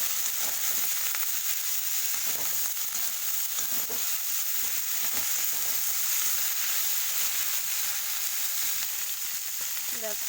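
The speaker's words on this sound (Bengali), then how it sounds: "ডাঁটাটা একটু ফ্রাই করে নেব" Tender young pumpkin stalks fry in a pan with a continuous, even sizzle and crackle that stays close and steady throughout, with faint scraping from stirring and no voices.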